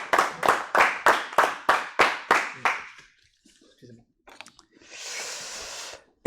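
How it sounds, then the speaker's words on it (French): A burst of about ten loud, evenly spaced claps, then a quiet pause and a brief hiss of background noise, at an awards night honouring the season's best driver. "on peut encore l'applaudir"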